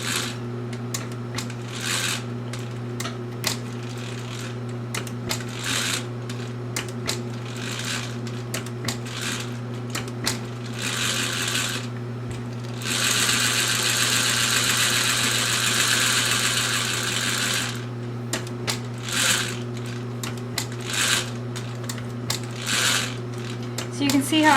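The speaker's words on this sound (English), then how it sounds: "So you can see how I just stitch a few stitches and then I use the lift." A sewing machine stitches fabric around curves, its motor humming steadily with mechanical clatter in short bursts, pausing as the presser foot is lifted and the piece adjusted; a louder continuous run sits in the middle.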